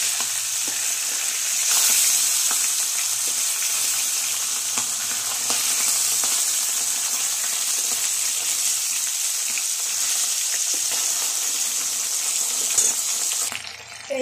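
Fish fries in hot oil in a wok with a steady, loud, crackling sizzle that runs throughout, broken near the end by a brief clatter.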